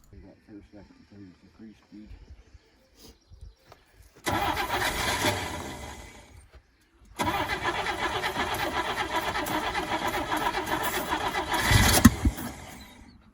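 A 1962 Rambler car engine cranks over in two loud, sustained bursts of rapid churning from the starter, the second longer and rising toward the end, with people talking before and between attempts.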